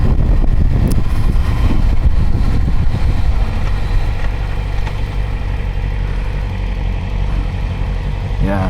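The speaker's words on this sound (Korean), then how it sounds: "이게 배기 사운드가 좋잖아요" Yamaha R6 motorcycle engine and exhaust, loud and close, rumbling steadily with an early rev that settles into a sustained low idle-like drone; voices talk over the start.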